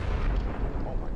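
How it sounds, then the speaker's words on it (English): Diesel engine explosion on a tank in Minecraft: a dense, sustained rumbling blast with broad low-end roar filling the whole moment, loud and close with no pauses. "if they're using diesel engines, it can even explode"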